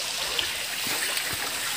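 Water at Dharagiri waterfall near Ghatsila rushes in a constant, dense wash, steady and fairly close, with no talk.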